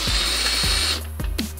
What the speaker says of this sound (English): because with the torque setting of this drill, it's going to get to a point where it doesn't want to push any harder